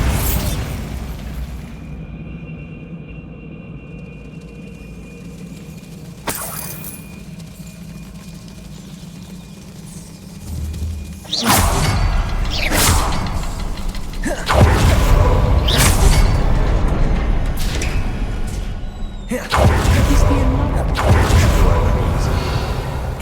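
A Bombarda spell cast in the Hogwarts Legacy video game, heard as a sudden loud blast followed by crumbling, rumbling debris and mechanical creaks amid game ambience, with a sharp crack earlier and further bursts later.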